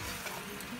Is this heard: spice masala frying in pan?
yes